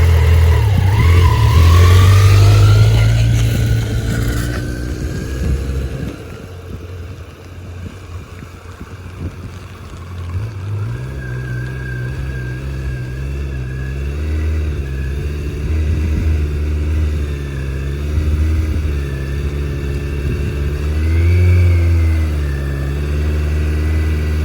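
Motorcycle engine revving, then held at a steady raised RPM during slow balancing with the rear brake, a loud close drone that rises early, dips and then holds fairly even with slight wavering, with wind noise.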